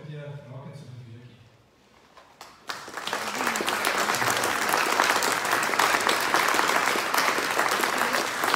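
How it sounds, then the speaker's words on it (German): An audience applauds after a lecture on the tasks of the Swiss Air Force. It starts with a few claps over a voice, then swells into sustained, dense clapping from a large hall that stays loud to the end. "Applaus."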